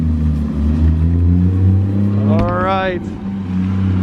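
A Porsche car engine hums loud and close with a steady drone, then gives a brief rising rev as it pulls away, with a voice speaking briefly.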